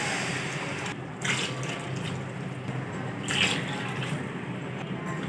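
Water pours steadily into a cooking pot being readied for boiling soaked sella rice for homemade beef biryani, a continuous splashing fill heard close up with small shifts in flow.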